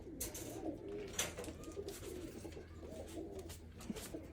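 Pigeons coo softly and repeatedly in a breeder's loft, low throaty calls over a quiet background with no talking.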